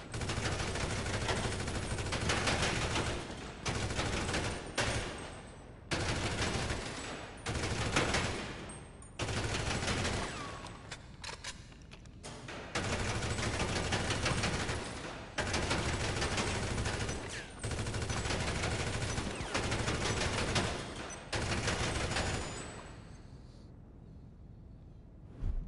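Gunfire at the bunker shooting range in GTA Online: long bursts of rapid automatic shots repeat loud and close, each run cut by brief gaps, with no talking over the shooting.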